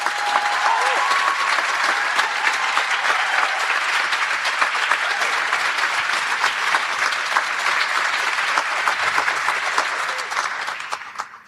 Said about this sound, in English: Please give yourselves and this crew a big round of applause to kick us off